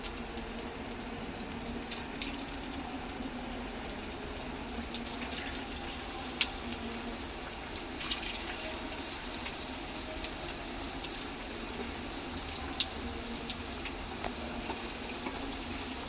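Kothimbir wadi, coriander fritters, fry in hot oil over low heat, giving a steady soft sizzle with sharp crackles and pops scattered through it.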